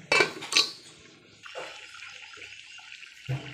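A lid set onto a cooking pot of katla fish curry with cauliflower and potato: two sharp, close metallic clanks, then a softer rattle and a faint bubbling hiss.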